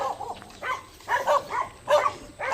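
Dogs on a street bark in quick bursts, several loud, close barks repeating every half second or so, with no talking.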